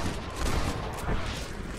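Dense, rumbling gunfire from a Red Dead Redemption shootout, a brief stretch of overlapping shots and booms without clear single reports.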